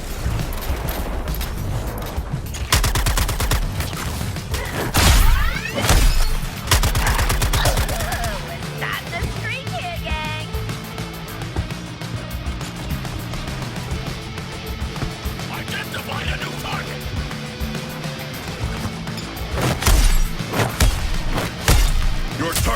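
Sustained gunfire in the action game Suicide Squad: Kill the Justice League, with rapid automatic bursts, heavy booming impacts and explosions continuing for over twenty seconds, while a character's voice speaks over the combat at times.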